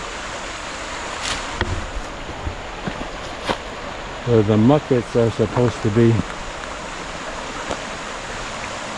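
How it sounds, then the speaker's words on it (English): A brook runs steadily beneath an old train bridge, its broadband rushing wash sitting under someone talking in the middle of the passage, with a few faint knocks and clicks. "this is the brook"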